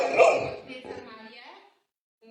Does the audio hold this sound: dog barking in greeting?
yes